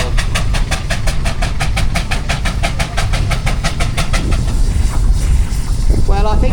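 A steam engine at the Parham Park steam rally chuffs in a fast, even rhythm of sharp close exhaust beats, then settles into a louder continuous rumbling roar with a faint whistle-like tone near the end.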